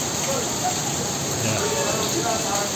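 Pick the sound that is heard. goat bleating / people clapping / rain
rain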